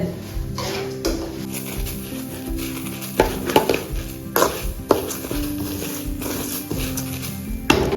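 Poongar rice being roasted in a pan gives close, irregular scraping and tapping as it is stirred and tossed, with a low hiss beneath and a few sharper clatters.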